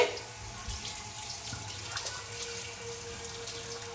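Running tap water splashes steadily while a face is rinsed at a sink, a soft continuous wash of water with small splashing variations throughout.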